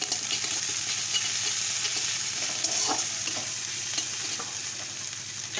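Ginger paste fries in a pan for a jackfruit and prawn curry, a constant close sizzle with soft scraping stirs and occasional louder spatters, no talking.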